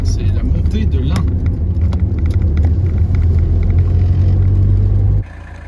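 A Peugeot 205 engine idles steadily with a low, even rumble close by, then the sound drops away abruptly near the end.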